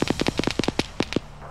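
Rapid bursts of gunfire from a 'spitter' shooting at its own team in ARMA 3, about a dozen sharp close shots in an uneven fast rhythm.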